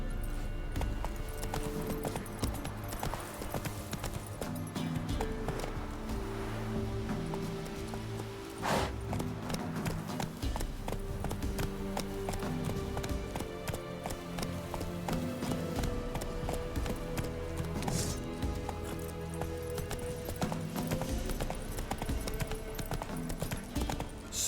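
Roach the horse gallops in The Witcher 3: Wild Hunt, a continuous rhythmic clatter of hooves running for the whole stretch alongside layered game music and ambience.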